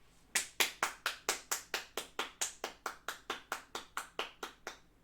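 A live television studio audience claps in a quick, steady burst of about twenty crisp, even claps close to the microphone, with no talking over them.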